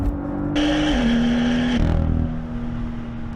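A sports car's exhaust revs up loudly, holds a throaty roar, then drops back to a rumbling idle, close and continuous.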